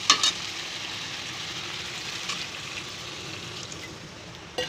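Cauliflower and potato curry sizzling and frying in a pan as water goes in, a steady hiss with a few brief clinks near the start and end.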